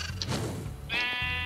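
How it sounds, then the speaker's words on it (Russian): A sheep in the Minecraft video game gives a short bleat, heard faintly, with a clearer, sustained bleat near the end over light in-game background sound. "Не отдадим наших овечек!"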